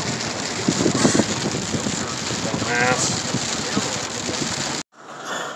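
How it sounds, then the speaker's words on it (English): Heavy rain pours during a severe thunderstorm in Bangor, Michigan, a dense steady wash with some wind buffeting. A man mutters briefly over it before it cuts out near the end. "Stopped raining for a little bit, then it picked right back up."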